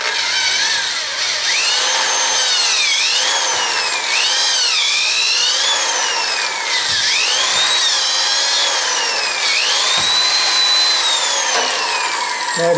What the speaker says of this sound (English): let's see if I can drill the sand out of the core